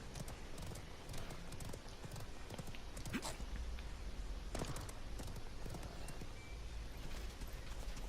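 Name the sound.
horse hooves while riding in Realm Royale video game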